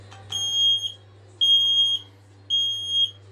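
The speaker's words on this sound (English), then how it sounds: "we will do a test on the smoke alarm today." A household smoke alarm being tested sounds three loud, piercing high beeps, each about half a second long, separated by short gaps over a low steady hum.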